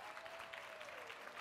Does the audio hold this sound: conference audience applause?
yes